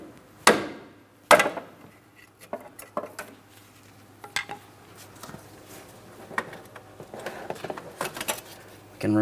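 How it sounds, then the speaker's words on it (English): Metal-on-metal hammer taps on a pry bar braced against an inner tie rod of a 2003-2007 Cadillac CTS, two sharp loud strikes early followed by a series of lighter irregular taps and clinks over a steady low hum. "Now I'm going to tap on the other end of the pry bar to break this free."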